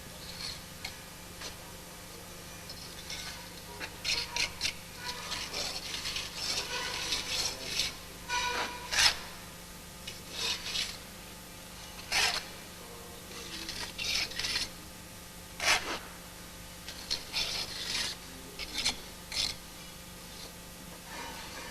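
A trowel scrapes surplus mortar along the joints of a brick-on-edge soldier course, giving a run of short, dry rasping strokes in an irregular rhythm, close by and fairly quiet, with no talk.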